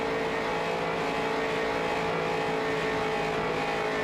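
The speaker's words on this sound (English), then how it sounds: "Revving out the engine." A Street Stock race car engine revs on pit road at New Hampshire, droning steadily and loudly throughout with a constant tonal hum and no clear rise in pitch; nobody speaks.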